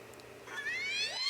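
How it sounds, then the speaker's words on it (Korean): A cat cries outside a house at night, a single drawn-out rising meow, fairly faint and alone. "또 고양이 우는 소리가 들리는 거예요."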